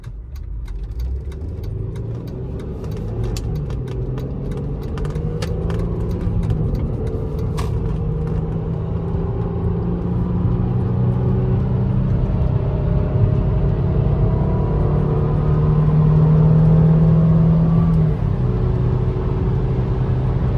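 Steady, loud engine rumble and road noise from inside a 2003 Audi A6 3.0 Quattro as it accelerates along a bypass, the pitch rising gradually over about twenty seconds, with a few light clicks early on.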